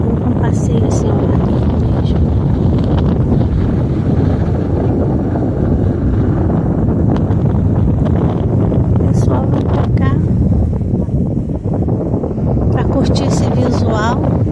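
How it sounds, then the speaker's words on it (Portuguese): Heavy wind buffets the microphone in a steady, loud roar throughout at Lagoa do Boqueirão in Maricá, Rio de Janeiro, Brazil, with a broad rumbling wash and faint voices now and then. "Fresquinho aqui, ventando bastante."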